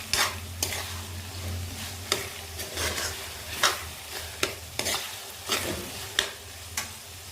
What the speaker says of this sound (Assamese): পানীৰ হেৰি এটা থাকে, সেইকাৰণে অলপ ভাজি ল'লে সুৰক্ষিত হৈ থাকে আচাৰখিনি।